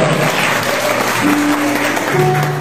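A church congregation claps loudly and continuously during a sermon, a dense wash of applause with faint sustained tones from instruments underneath.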